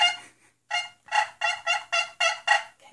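Turkey gobbling outdoors on a hunt, a rapid series of about seven loud, bright gobble bursts in quick rhythm after a couple of softer calls, fairly close and with no talking over it.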